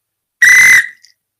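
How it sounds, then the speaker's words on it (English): A single loud, clear whistle blast of about half a second sounds to mark a correct quiz answer, alone with no talk over it. "When we get them right, we get a whistle."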